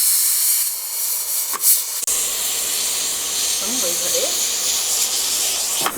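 Pressure cooker on a home kitchen stove hissing steam through its whistle, with water spilling out as it vents; a steady broadband hiss runs throughout, with a brief sharp burst near the start and faint talk underneath.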